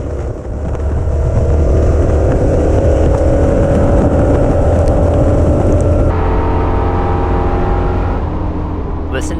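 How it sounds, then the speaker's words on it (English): A Ford Crown Victoria racing on a track, its engine droning loud and steady at full throttle through a corner, heavy wind buffeting the in-car microphone throughout. "Listen to how hard he gets on the throttle here mid-corner."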